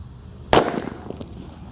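A single mercon bledek firecracker bursts with one sharp, loud crack outdoors during Lebaran celebrations, followed by a brief crackling tail fading into background noise.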